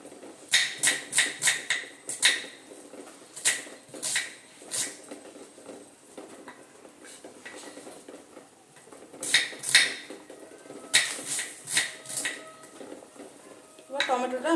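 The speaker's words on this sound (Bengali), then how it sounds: "সেম প্রসেসে এই পেঁয়াজটাকেও কেটে নেব।" A knife cuts an onion on a board with rapid, bright chopping taps that come in bursts, followed by quieter gaps and scattered clinks, then more quick chopping. No voice is heard.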